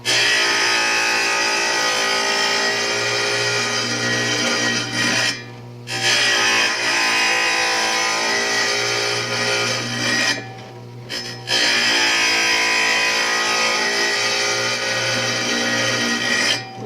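A wet saw grinds steadily through tile, a loud continuous whine with water hiss that briefly drops twice as the blade eases off before resuming, with no talking.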